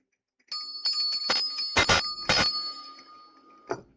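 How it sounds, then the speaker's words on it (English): A small bell rung during a tarot reading: several bright metallic dings, some struck in quick pairs, their ringing tone lingering, then one final softer ding after a pause, with no talking. "I feel like I need to ring my bell."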